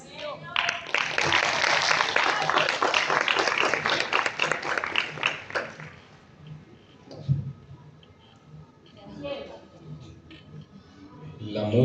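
Audience clapping at a book presentation in Calarcá, Quindío, a dense burst of applause for about five seconds that fades into scattered claps and a speaking voice.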